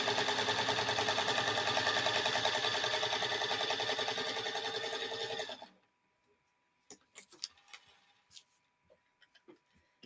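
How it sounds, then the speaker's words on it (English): A featherweight sewing machine stitches a quilt block for a sparkle star pattern, running in a dense, steady, rapid rhythm for about five seconds. It then stops abruptly, leaving scattered light clicks and handling taps. "let's get this one sewn down"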